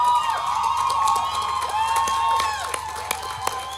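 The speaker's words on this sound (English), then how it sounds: "Put your hands together again for them." An audience at a tech conference in Abuja cheers and applauds, a dense wash of clapping and shouts that fades slightly, with a few sharp individual claps standing out near the end.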